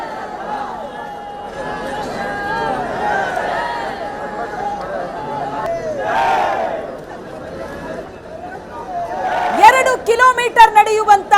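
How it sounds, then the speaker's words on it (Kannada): A packed roadside crowd at a PM Narendra Modi road show during the Lok Sabha election campaign cheers and shouts in rising waves, loudest toward the end, with a voice speaking over the din. "ಜನರತ್ತ ಪ್ರಧಾನಿ ನರೇಂದ್ರ ಮೋದಿ ಕೈ ಬೀಸ್ತಾ ಇದ್ದಂತೆ ಜನರ ಹರ್ಷೋದ್ಗಾರ ಮುಗಿಲು ಮುಟ್ಟಿತ್ತು"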